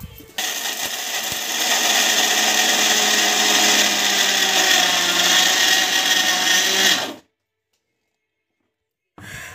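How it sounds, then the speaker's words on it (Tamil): A mixer grinder whirs steadily and loudly for about seven seconds while blending ingredients for a pregnancy diet recipe, then cuts off abruptly into silence before a brief restart. "இது வந்து மிக்சியில் வந்து போட்டுக்கலாம்"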